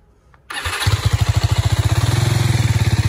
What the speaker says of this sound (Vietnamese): Lổ máy đi cho mọi người nghe tiếng máy xem nào